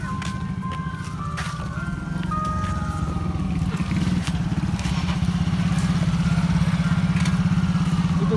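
A motorcycle engine rumbles steadily nearby on a street during a school pickup, its low drone growing slightly louder, with faint tones and background noise over it.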